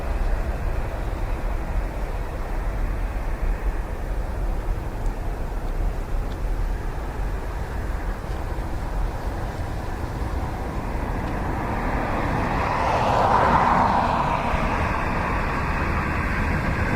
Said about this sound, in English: TK 1975 next. It's a 321 Neo coming in from Istanbul.